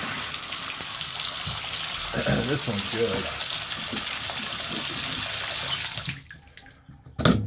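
Water running from a leaky Pfister three-handle shower faucet, a steady loud gushing stream that cuts off near the end, with brief talk partway through.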